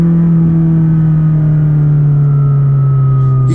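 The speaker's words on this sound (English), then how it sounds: "Now, the shifts are rough on purpose." A McLaren 600LT supercar pulls hard under acceleration, its engine droning loud and steady with a strong low tone and no clear break for a gear change, heard close with no voices.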